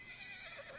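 A horse in the open-world western game Red Dead Redemption 2 whinnies faintly and briefly, a thin, breathy neigh with no talking over it.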